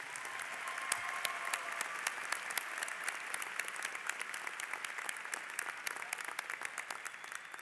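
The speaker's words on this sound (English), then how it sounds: "Can we give these troopers another round of applause" Sustained audience applause at a high school graduation ceremony for graduating seniors, a steady, even wash of many hands clapping from a large crowd, moderately distant and continuous throughout.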